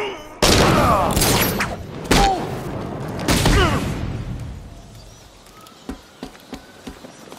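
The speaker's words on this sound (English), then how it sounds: "Sentry gun!" Sentry gun in the video game Batman Arkham Knight, several loud bursts of rapid automatic fire with booming impacts, followed by a few sharp, fainter isolated shots.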